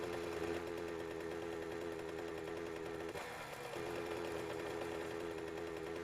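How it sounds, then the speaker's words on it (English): Mini bike engine running underwater in the game 7 Days to Die, a steady faint mechanical whirring drone with a brief dip partway through, no talk. "So yes, you can drive a mini bike underwater."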